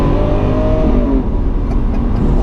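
Lamborghini Aventador Super Veloce engine roars loud and close from inside the moving car, a rich rising growl that eases briefly midway before surging again, with no speech.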